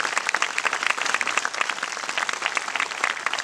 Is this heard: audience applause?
yes